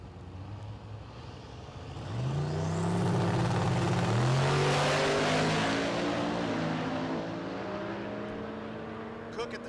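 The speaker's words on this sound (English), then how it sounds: "Left lane, that's that Duramax Chevelle, Rick Fleetus." A Duramax diesel-powered Chevelle launches hard down a drag strip, its engine roaring up through the gears as it passes close, then fading with the run, while an announcer talks over it.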